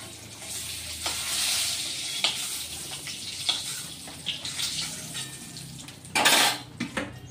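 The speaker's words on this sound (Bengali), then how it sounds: "তো এখন সিদ্ধ করা আলুগুলো ভেজে নিচ্ছি" Boiled potatoes frying in hot oil in a home kitchen, a steady sizzle broken by repeated clinks and scrapes of a utensil against the pan, with a louder clatter near the end.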